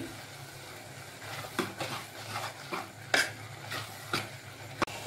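A Kashmiri chilli, garlic and cumin paste is stirred in a pan for hotel-style pav bhaji, as a spoon scrapes the metal in a steady series of soft strokes with a faint sizzle underneath.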